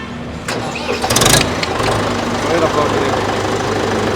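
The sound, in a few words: Arjun tractor engine self-starting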